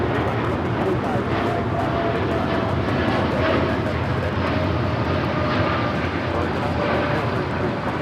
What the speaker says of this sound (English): That is American Airlines 914 taking off to Miami, Florida on the 787-8 Dreamliner